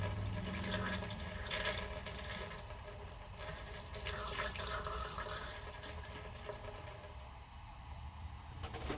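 Liquid pours steadily into a 1970 Yamaha AT1B motorcycle gas tank, making a close, continuous gurgling, splashing rush that holds at a moderate level throughout.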